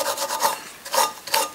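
Emery cloth rubs across the flat gasket face of a Puch engine during an overhaul, cleaning off old sealant in three quick, close, rasping back-and-forth strokes.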